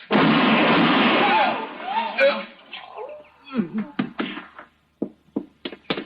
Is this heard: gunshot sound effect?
yes